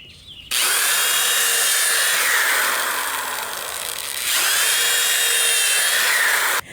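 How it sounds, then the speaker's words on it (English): A power drill with a 7/64 inch bit whines loudly as it bores pilot holes into wood, the pitch dipping under load, pausing briefly, then drilling a second hole. "I will be using a 7/64 inch drill bit to do my pilot holes."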